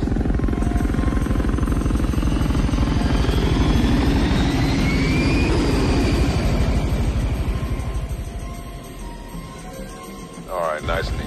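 Airplane engines drone loudly and steadily during flight in a movie cockpit scene, a rumbling throb that fades down near the end as a voice cuts in.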